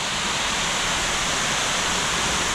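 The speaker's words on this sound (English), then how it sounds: "I want you to have a look at the waterfall for the last one" Love Waterfall in Hoang Lien National Park near Sapa, Vietnam, pours in a dense, even roar of rushing water that stays constant and close throughout, with no one speaking.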